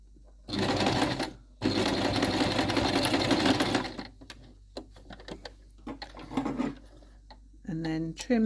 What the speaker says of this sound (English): let's pop that underneath the machine. As with most seams, this requires a back tack just to get you going